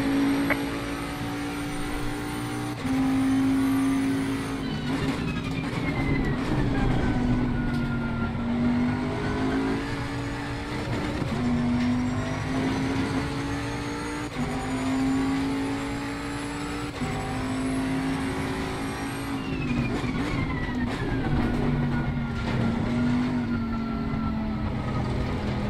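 A Bentley GT3 race car engine in Assetto Corsa Competizione at Paul Ricard drones steadily throughout, its pitch repeatedly climbing through the gears and dropping on upshifts, loud and continuous with no talk.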